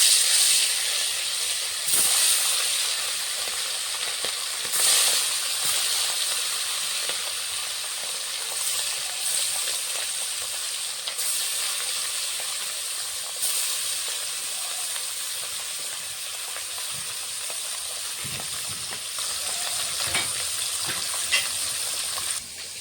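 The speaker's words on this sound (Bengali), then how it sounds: "ওখানে মাছটা ভাজা হচ্ছে" Marinated fish, rubbed with turmeric, frying in hot oil in a wok: a steady loud hiss of bubbling oil runs throughout, with faint clicks and small bumps here and there and no talk.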